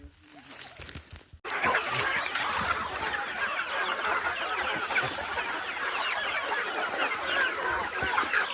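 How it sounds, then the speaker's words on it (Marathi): Free-range country chickens on a farm, a flock of hundreds, cluck and chatter in a dense, steady wash of many overlapping calls, close and fairly loud after a brief quieter start. "या आपल्या गावरानी कोंबड्या"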